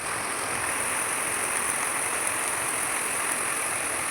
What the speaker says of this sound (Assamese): আমাৰ কি ওচৰতে এনেকৈ বৰষুণ পৰিছে